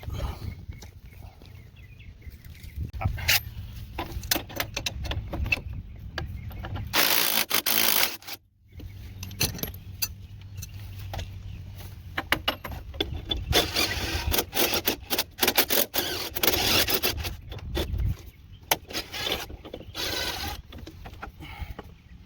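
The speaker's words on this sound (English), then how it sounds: "But let's go ahead and take those bolts out." Ratchet working loose the shock bolts on a truck during a leveling kit install, with bursts of rapid clicking and metallic clatter repeating up close across the stretch, briefly pausing midway.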